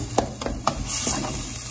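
Bell pepper sautés in a pan for a creamy shrimp rice dish, with a low sizzle and a few sharp scrapes and knocks of a spoon, close and moderately loud, with no talking.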